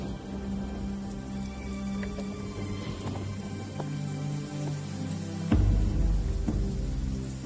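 Steady rain patters on a surface with a low constant hum underneath, swelling slightly louder near the end.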